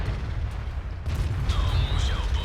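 A tank cannon in a World of Tanks-style game, firing from a T-54, with a heavy boom over a steady low engine rumble, followed by whistling, sweeping effects.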